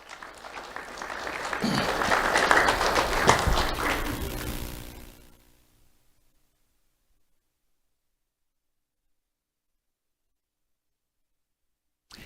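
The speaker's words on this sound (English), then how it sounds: "Let's have a round of applause for Jesus Ortez" Audience applause at a school awards ceremony honoring a student swells over several seconds, then fades out into silence.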